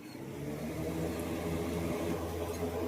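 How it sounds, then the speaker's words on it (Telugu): A newly fitted air cooler with a replaced motor running, a continuous low mechanical whir and hum that holds steady without any voices. "ఓకేనండి, కూలర్ అయితే బిగించాను"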